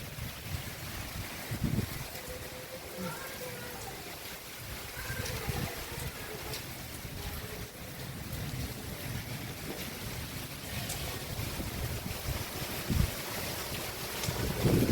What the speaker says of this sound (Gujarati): અત્યારે વીજળીના કડાકા ભડાકા અને પવન સાથે બહુ જબરદસ્ત પવન છે.